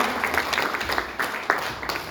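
An audience claps in applause to welcome a managing director at an Ayurveda talk, a steady dense patter of many hands in a room with a few louder claps standing out and faint voices beneath.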